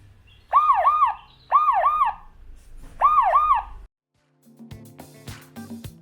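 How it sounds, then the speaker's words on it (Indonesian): A smart door lock's anti-theft alarm wails in three rising-and-falling bursts, loud and close, then cuts off, followed by some clicking and mechanical rattling. "alarm akan berbunyi jika door lock kita terlepas dari pintu karena dibobol maling"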